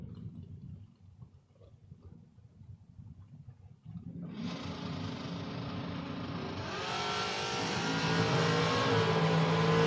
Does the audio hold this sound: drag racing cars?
yes